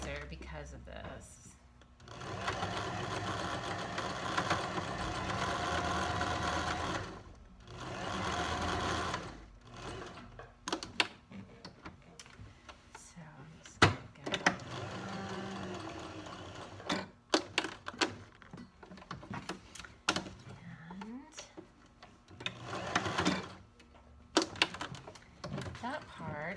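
Sewing machine stitching a repair on sweatpants: a loud steady mechanical whir running for several seconds, then shorter stop-and-start bursts and ticking stitches, with a person talking over parts of it.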